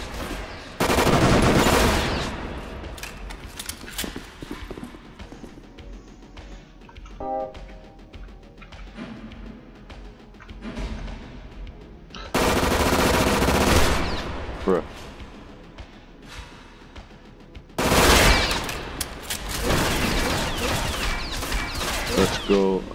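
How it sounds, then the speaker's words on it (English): Bursts of automatic gunfire in a shooter video game aimed at the player, loud rapid volleys coming in several clusters separated by quieter stretches of game sound. "Who's shooting me?"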